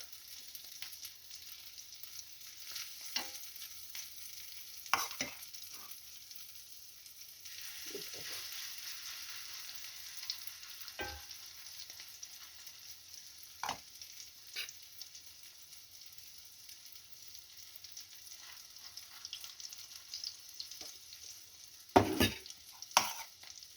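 Soft sizzling of zucchini patties and fritters frying in a pan, with occasional stirring scrapes and clinks, quiet and close.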